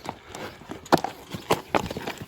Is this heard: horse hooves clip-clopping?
yes